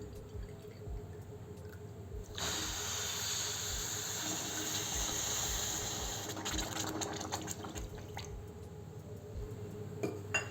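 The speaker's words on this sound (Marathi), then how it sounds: "दोन वाटी पाणी घालू।" Two cups of water are poured into a heated pan holding two cups of sugar to make syrup for Mysore pak. A soft, steady hissing pour lasts several seconds, then trails off into faint drips and light clatter.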